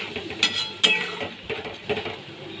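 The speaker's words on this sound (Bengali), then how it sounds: "ভালো করে আমি মশলাগুলো কষিয়ে দিচ্ছি।" Whole cumin and black cumin seeds with spice paste being stirred in a pan, a metal utensil scraping and clinking against the pan in uneven strokes over a faint sizzle, with two sharper clinks early on.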